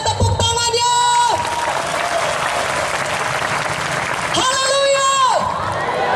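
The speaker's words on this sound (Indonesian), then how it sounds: "Mana tepuk tangannya?" Church congregation applauding loudly at an evangelistic gathering, a full burst of clapping with cheers and whoops, while a voice calls out over it and sustained, rising musical tones sound at the start and near the end.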